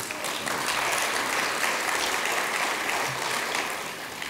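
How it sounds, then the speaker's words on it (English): Applause from a conference audience at an international carers conference keynote, a steady wash of many hands clapping that holds evenly before easing slightly at the end, heard alone without talk. "It's good to get a clap for someone else's idea"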